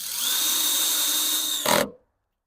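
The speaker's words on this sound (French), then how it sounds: "Et techniquement, je peux aller visser ici." A power drill runs steadily with a high whine, driving a screw into white sheet-metal roofing on a cabin, ending in a brief louder grinding burst as the screw seats, then silence.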